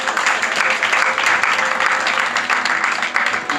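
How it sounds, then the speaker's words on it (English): Sustained audience applause at a mentalist stage show, dense and steady throughout, with a few voices faintly mixed in. "A warm round of applause to the blindfolder."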